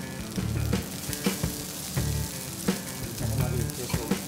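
Veg Hakka noodles fried in a pan at a street food stall: a steady sizzle punctuated by repeated scraping and clanking stir strokes, close and moderately loud.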